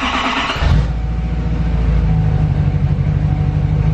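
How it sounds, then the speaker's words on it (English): A truck engine with a turbo vane fault cranks and fires at once, settling into a deep, loud, steady idle rumble with no voices over it. "When I start the truck, it sounds like a fixed vane."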